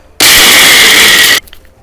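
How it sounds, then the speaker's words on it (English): A Ninja blender blitzing churros runs loud and steady for just over a second, a dense whirring roar that starts and stops abruptly, with quiet room sound around it. "Put it in my Ninja blender."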